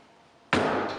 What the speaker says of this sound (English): Now that's the sound of a sturdy footrest.